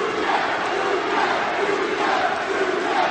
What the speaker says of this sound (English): the chants go up once more as the crowd try to rouse Witter to greater endeavours